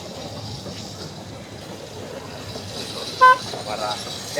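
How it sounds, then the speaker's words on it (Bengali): A children's toy train gives one short, bright toot in a busy park, rising over steady crowd and traffic noise and distant chatter. "টয় ট্রেন ছোট বাচ্চাদের জন্য।"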